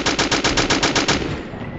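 An MG-42 machine gun fires in a Roblox video game, a rapid loud burst of about ten evenly spaced shots that stops abruptly and leaves a short fading tail.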